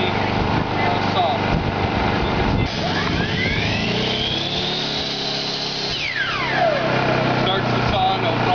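A Hitachi electric saw powered by a Hyundai generator whines steadily, its pitch rising and falling as it runs, over the constant drone of the generator and a fan; a voice speaks over the machinery.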